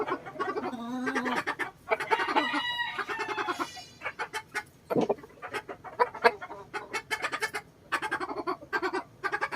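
A Boston cross gamefowl rooster clucks and crows repeatedly at close range, with drawn-out crowing calls and choppy clucks broken by brief pauses, amid faint outdoor background noise.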